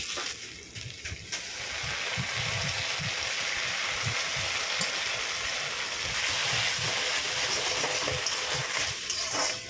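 Chili powder, chili sauce and tomato sauce being stirred in a hot pan for chili egg 65, making a continuous loud sizzle with rhythmic scraping stirs throughout.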